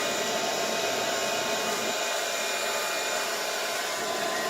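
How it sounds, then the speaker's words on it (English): A blow dryer runs continuously to dry acrylic paint on a mixed-media art journal page, giving a loud, steady whooshing hum from start to finish with no talking. "Anytime I have to use the blow dryer and it's for a little while"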